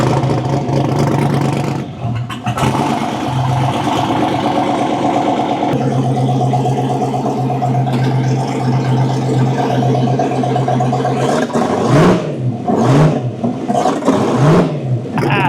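A car engine fitted with twin turbos idles roughly and then revs up several times near the end, rising and falling in pitch, loud and close with no talking.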